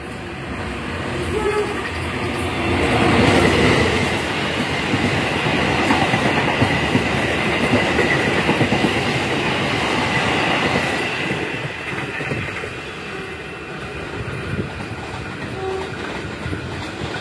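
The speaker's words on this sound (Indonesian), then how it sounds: "saat ini kereta api Probowangi akan melintas di sini" The Probowangi passenger train rumbles past nearby with rhythmic clattering of wheels on rails, steady and loud for the whole stretch, with a faint voice underneath.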